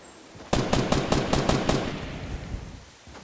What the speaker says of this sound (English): Power the freaking minigun!